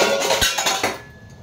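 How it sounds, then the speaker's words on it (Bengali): A wok set down on a lit gas stove gives a short burst of bright metallic clinks and clatter, loud and close, then quickly fades to quiet. "গ্যাস অন করে দিয়েছি। এবার আমি কড়াইটা বসিয়ে দেব।"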